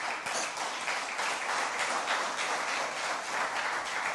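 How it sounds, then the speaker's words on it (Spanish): Steady, dense applause from a church congregation during a sermon, a continuous wash of clapping that holds at an even level throughout. "Dele un aplauso a Dios, venga."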